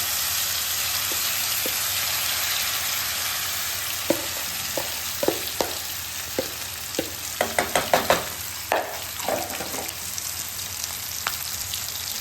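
A spiced potato mixture fries in an oiled pan with mustard seeds, a steady loud sizzle running throughout while a spoon scrapes and taps in a cluster of sharp strokes midway, with no talking.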